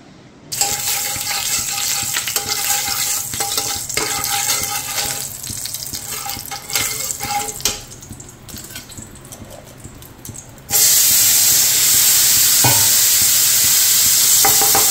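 Fish curry being stirred and fried in a pan: steady close sizzling with scraping and clinking of a spoon, growing louder and hissier near the end.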